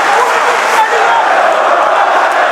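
A dense, roaring arena crowd cheers continuously at a UFC Fight Night in Kansas City, loud and sustained, with no breaks.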